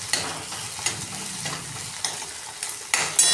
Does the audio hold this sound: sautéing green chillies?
yes